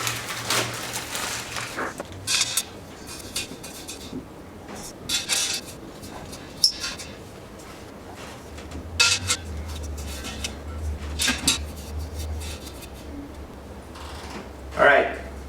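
Metal parts of a Braumeister 10L brewer's lid and side posts being assembled, with close clinks, taps and sliding scrapes scattered irregularly over a low steady hum.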